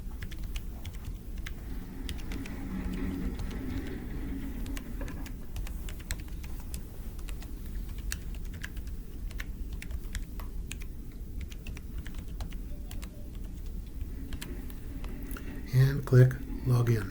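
Fingers type an email address and password on a computer keyboard, a close, fast patter of light key taps continuing steadily before a few louder clacks near the end.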